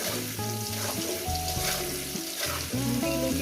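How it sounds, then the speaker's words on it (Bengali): Potatoes with turmeric frying in a pan give a dense, steady sizzle close by, with a tonal hum running underneath and a few stirring clinks. "এবার এটা সুন্দর করে আমি ভেজে নেব"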